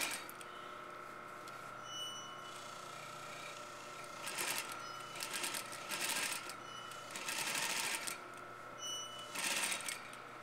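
A sewing machine stitching a garment cuff, with short bursts of rapid mechanical whirring and clatter between pauses over a faint steady hum, close and alone.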